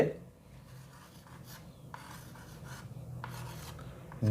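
Pen or pencil writing on paper: a series of short scratchy strokes, close and quiet, under a faint low background hum.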